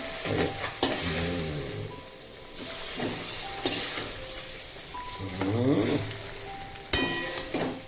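Pabda fish hiss and crackle as they go into a pan of mustard curry, a steady close sizzle broken by sharp clatters and stirring scrapes.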